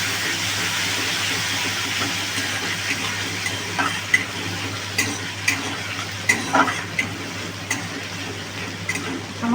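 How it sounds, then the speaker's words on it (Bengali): Chopped garlic and ginger frying in hot oil for paneer momos, a steady close sizzle with a low hum underneath and occasional spoon taps and crackles. "হালকা করে ভেজে নেবো একটু আমি।"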